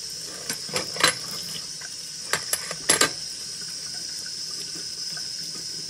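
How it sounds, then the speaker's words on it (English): A sink tap runs at low pressure while rust remover is rinsed off a titanium knife, giving a steady trickle with a few sharp clinks and knocks against the basin and no talking. "I'm gonna turn on the sink a little bit"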